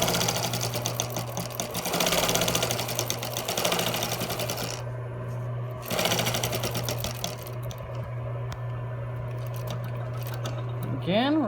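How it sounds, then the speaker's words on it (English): A sewing machine stitches along the edge of a fabric medical mask cover, whirring steadily and close with a few short pauses and restarts, while a person talks over it. "And then we're going to sew along this edge."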